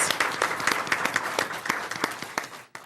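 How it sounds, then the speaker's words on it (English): An audience at a Go Red for Women luncheon and fashion show bursts into warm applause, many hands clapping briskly and evenly for nearly three seconds before stopping abruptly. "So can we have a round of applause for just being so fabulous?"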